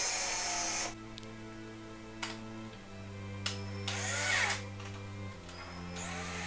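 A cordless drill boring into hardwood whines at high speed, then its pitch drops as it bites and slows, with short bursts of revving between steadier grinding stretches.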